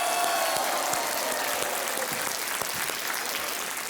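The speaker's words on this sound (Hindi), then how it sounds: "तालियों के साथ मैं चाहता हूं कि आप उनका स्वागत करें।" Studio audience at a KBC game show clapping to welcome new contestants, a full, continuous wash of applause from a large crowd, steady and loud throughout without speech.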